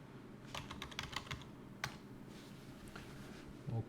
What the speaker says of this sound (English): I'm going to try to type something here.